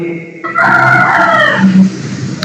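A rooster crows once loudly and close by, a drawn-out rising and falling call lasting about a second, with faint background noise and a short low cluck near the end.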